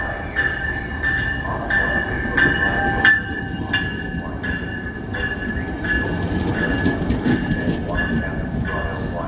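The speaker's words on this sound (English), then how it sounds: "that's why we're on the train" A Metrolink commuter train heading into Los Angeles heard from inside a car: a steady loud rumble of wheels on track with a sustained metallic squeal and periodic clicks, with some voices partly audible over it.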